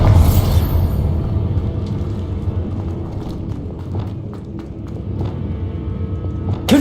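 The Bombarda spell goes off in Hogwarts Legacy as a loud, deep boom at the start. A low rumbling roar with scattered crackles follows, dies down, and swells again at the end.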